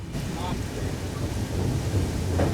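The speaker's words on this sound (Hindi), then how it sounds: "तो भाई बारिश भी अच्छी खासी तेज़ हो चुकी है" A dense, constant roar of heavy rain pours down without a break, loud and close, with a low rumble underneath, heard from a moving train in Kerala.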